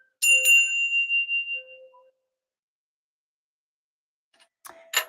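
A small bell rung to call in Leo gives a couple of bright strikes that ring out and fade over about two seconds, then near silence before a few faint clinks close by.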